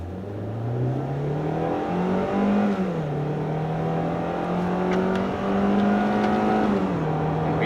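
A Hyundai Elantra GLS engine pulls hard in sport mode, its tone climbing steadily with a brief dip at a gear change before rising again, heard from inside the cabin, loud and unbroken with no voices.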